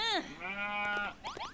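Sheep bleating in Dragon Quest Builders 2, a few wavering game-animal bleats in close succession, loud and clear with no talk over them.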